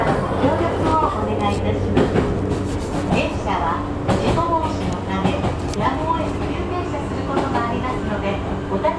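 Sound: Sotobo Line one-man train running

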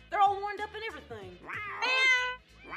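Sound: cats meowing

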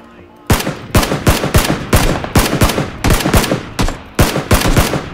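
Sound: gunfire in the video game PUBG

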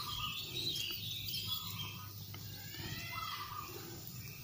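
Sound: prinia chicks chirping

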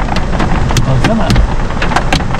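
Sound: hail falling on car

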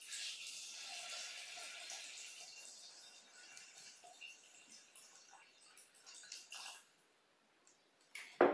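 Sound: pouring water into a Thermomix

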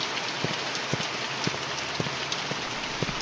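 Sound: rain at night in video game The Mortuary Assistant

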